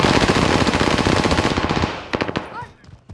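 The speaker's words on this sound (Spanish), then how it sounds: "Que nos está disparando de lejos, tío" Sustained automatic gunfire in Call of Duty Warzone, a dense loud rattle for about two seconds that breaks into a few scattered single shots, with faint voices underneath.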